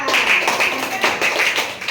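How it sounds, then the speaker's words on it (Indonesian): Students in a school classroom clap for a student group, producing a steady, rhythmic pattern of close claps mixed with a voice. "Tepuk tangan untuk kelompok mereka."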